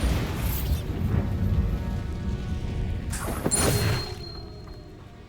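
Bombarda and Confringo blasting spells in Hogwarts Legacy: a dense, loud run of booming impacts and crashing bursts for about four seconds, with a sharp burst near the end before the blasts drop to a quieter rumbling tail.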